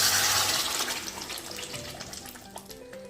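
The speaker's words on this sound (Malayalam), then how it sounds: "ഇനി തക്കാളി അടിച്ചത് ഇതിലേക്ക് ഒഴിച്ച് നല്ലപോലെ ഇളക്കി വറ്റിച്ചെടുക്കണം." Blended tomato puree poured into hot sesame oil in a pan for tomato pickle, starting with a loud, bright hiss that gradually fades into softer bubbling.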